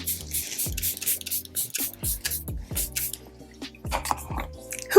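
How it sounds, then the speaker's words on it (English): Several short hissing bursts of a Charlotte Tilbury makeup setting spray bottle, spaced irregularly, near and fairly loud over faint background music. "the last step, of course, is the setting spray"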